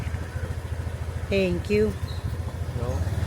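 Motorcycle engine running steadily throughout, a low pulsing rumble of a ride on a motorbike, with a person speaking briefly over it midway.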